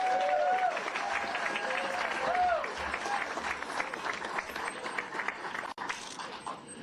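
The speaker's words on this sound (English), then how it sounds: "please give a round of applause for Southie's own indispensable man, Tommy McGrath." Audience applause at a White House event, a sustained round of clapping with voices and crowd noise mixed in.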